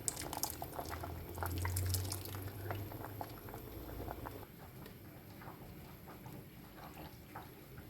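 Thick Turkish ashure pudding simmering in a pot, a soft steady bubbling and popping close by, slightly louder in the first seconds and then settling to a quieter, even simmer with no talking.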